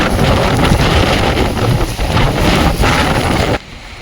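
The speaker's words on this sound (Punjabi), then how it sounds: "ਲਓ ਜੀ ਨੇਰੀ ਤਾਂ ਗਈ ਘਟ ਪਰ ਕੰਮ ਆਪਣਾ ਪੂਰਾ ਕਰ ਗਈ" A strong windstorm roars across Punjab farm fields, buffeting the microphone with loud, rumbling gusts that cut off abruptly near the end.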